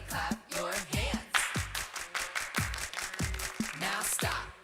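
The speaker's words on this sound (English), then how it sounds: "everybody clap your hands" Children and adults clap their hands in a steady rhythmic beat during a church holiday-club song and dance session, many claps in quick succession mixed with singing voices and music.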